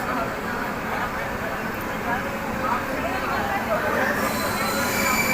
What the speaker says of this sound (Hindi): तो फिलहाल 3 मिनट के हॉल्ट के बाद इस ट्रेन का डिपार्चर हो गया है।